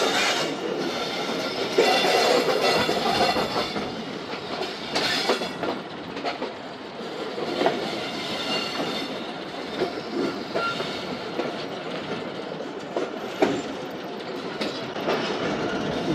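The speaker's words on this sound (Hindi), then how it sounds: "और ट्रेन दोस्तों हमारी प्लेटफार्म नंबर 1 पर जा रही है" Karachi Express passenger train rolling toward platform 1, a steady loud rumble with clickety-clack wheel rhythm and brief squeals, continuous and close, with no talk over it.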